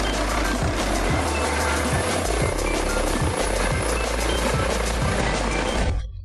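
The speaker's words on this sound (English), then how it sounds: "the shutter speed of the camera matches the rotor speed of the helicopter's blade" Helicopter rotor blades thump in a fast, even beat, loud and close, over a constant engine whine that cuts off sharply at the end.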